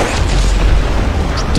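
A deep, heavy boom from fireworks in the video game Fireworks Mania rumbles continuously, loud and low, like a large explosion blast filling the whole moment with no voices.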